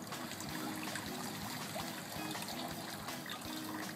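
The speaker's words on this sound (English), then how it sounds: "we're just going to pour the pond water right through the screen." Pond water poured through a screen to harvest spirulina, a soft steady trickle and splash of water falling through mesh, close and continuous, with no talk.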